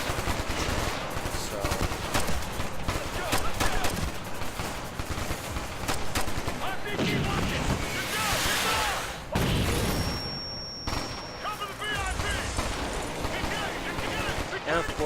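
Ghost Recon Future Soldier gameplay is filled with dense, continuous automatic gunfire and explosions from a modern combat battle against Taliban-type fighters, with someone talking over the constant shooting.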